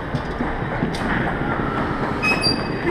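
A Toulouse metro train rolls into a station with platform screen doors, rumbling, clattering wheel noise, brief metallic squeals rising as it slows, loud and close throughout.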